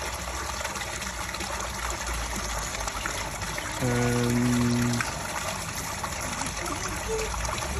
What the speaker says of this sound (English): water will start coming out any second